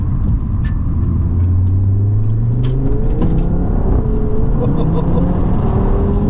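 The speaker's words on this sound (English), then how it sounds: "You can't beat that engine noise" A 460 bhp stage 2 Audi RS3 8P accelerates hard from inside the cabin, its engine drone rising through the gears with short shift breaks under constant loud road rumble.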